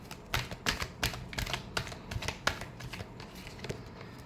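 A deck of tarot cards shuffled close by, a fast series of soft riffling flicks and taps in an uneven rhythm, quiet, with no voices.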